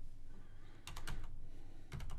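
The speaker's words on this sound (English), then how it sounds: "I don't feel like typing anymore" Typing on a computer keyboard while entering data in a spreadsheet: two short bursts of quick, close key clicks over a low room hum.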